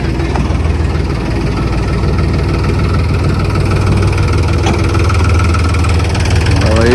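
A tractor at a brick kiln runs loud and close, its engine a continuous heavy, rumbling idle with steady vibration throughout.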